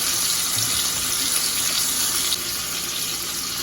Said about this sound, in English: And just a little bit of water.